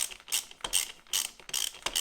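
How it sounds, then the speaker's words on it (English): A ratchet undoes the final drive torsion bolt on a 2005 BMW 1200GS, giving close, crisp bursts of clicking pawl in steady back-and-forth strokes, about five quick rounds with no talking. "Now we go back to the torsion bolt itself, this one just here, and undo this."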